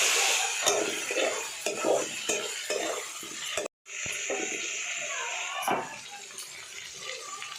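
Tomatoes stirred into fried onions in a pan on a home stove, a loud sizzling hiss with repeated scraping stirs, briefly cut off midway, then continuing slightly quieter.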